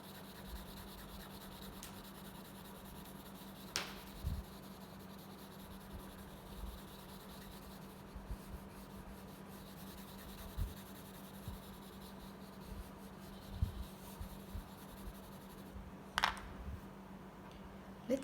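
A colored pencil shades a sphere on paper with steady, soft scratching strokes, faint and close, broken by occasional light taps and clicks.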